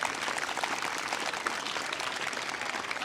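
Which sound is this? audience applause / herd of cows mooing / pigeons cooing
audience applause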